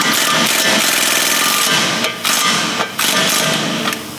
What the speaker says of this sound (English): So I'm using a 17 impact with a swivel.